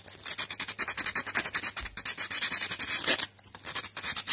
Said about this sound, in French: Une fois que tu as terminé, tu ponces partout autour.